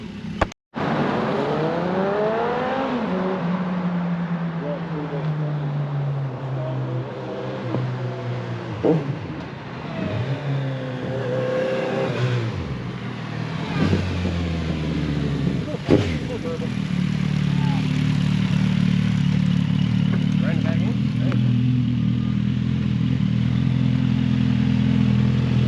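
A 2017 Suzuki GSF 1250 Bandit with a fresh dyno tune revs and pulls away on a test ride, the engine note climbing through several gear shifts before settling into a loud, steady drone.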